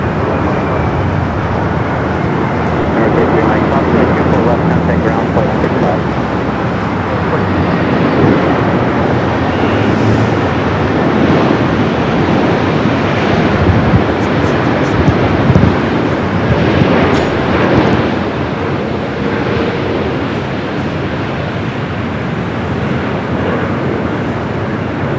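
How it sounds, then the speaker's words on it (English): An Airbus A380 arriving on the north side of Los Angeles International Airport gives a loud, steady broadband roar that holds for the whole stretch, with a touch of wind buffeting and no voices. "Back-to-back A380 arrivals there on the north side."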